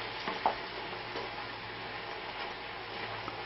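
Pak choi fries in a hot pan with a faint, steady sizzle and soft crackle, a few small ticks of stirring near the start, heard quietly in a home kitchen without talk.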